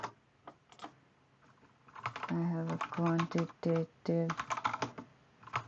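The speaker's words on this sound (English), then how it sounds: "my keyboard might be sounding, because it's a mechanical keyboard" Clattering keystrokes on a mechanical computer keyboard, quick bursts of typing close to the microphone, running under a person speaking.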